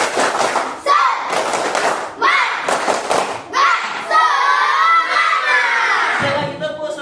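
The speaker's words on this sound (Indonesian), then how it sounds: "Ayo semuanya, tepuk semangat" A fourth-grade class at SDN 114353 Lobu Rampah does the tepuk semangat spirit chant. Loud bursts of group clapping come in rhythmic clusters, interleaved with children's shouted chanting close by.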